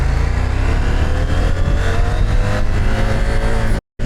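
A brand-new CFMOTO 800MT-X motorcycle engine revs loudly and steadily close by as it shifts gears during an off-road ride with the quick shifter failing, sustaining a rising drone before cutting off abruptly near the end.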